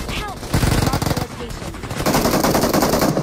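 Shotgun blasts in an intense online battle-royale shooter match, several loud, close reports in quick succession with rapid gunfire, loud and dense throughout, with no talk.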